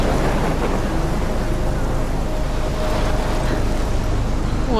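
Thunderstorm in the video game Life is Strange, with heavy rain and rolling thunder forming a dense, loud, constant roar with no break.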